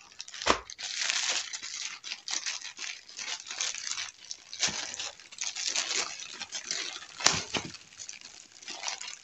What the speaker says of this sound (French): On va commencer par ouvrir les boîtes.